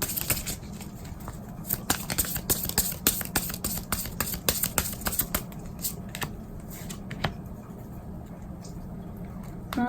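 Tarot cards are shuffled by hand to draw an advice card, a close series of crisp, irregular clicks and riffles over a quiet background with no talking.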